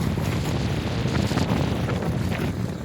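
Strong evening wind blows at the old jail in Diu while rain falls, buffeting the microphone as a steady, dense roar that stays loud and even throughout, with no voices.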